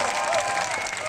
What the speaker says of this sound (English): Can we please give a big round of applause to this man?